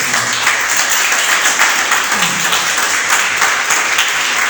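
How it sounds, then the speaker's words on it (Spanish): A church congregation claps loudly and steadily during a sermon, a dense, close wash of many hands that continues without pause. "Denle un aplauso fuerte."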